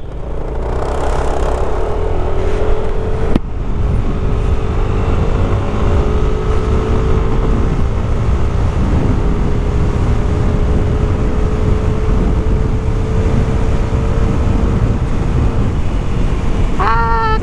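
A Yamaha Aerox 155 V1 scooter with a changed center spring accelerates hard along a road, its engine a loud, continuous drone rising steadily in pitch under heavy wind rush, with a brief thump early on.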